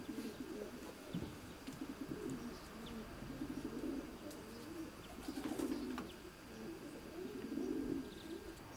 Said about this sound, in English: these are a few of Terry's stock birds out in the aviary, enjoying the rain which we're suffering today